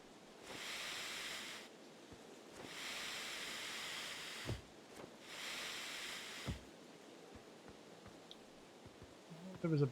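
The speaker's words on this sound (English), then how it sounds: "I hate the noise of the deflated jetpack." A deflated jetpack in a space video game gives three loud hissing, rushing bursts of about a second each with short gaps, then a few faint clicks and a low thump at the end.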